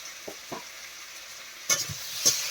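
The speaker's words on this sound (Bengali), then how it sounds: "এই কড়াইতে এখন মাছ ভাজা চলছে" Fresh river fish sizzles steadily in hot oil in a wok, with a few sharp clinks of a spatula stirring against the metal, close and fairly quiet, with no talking.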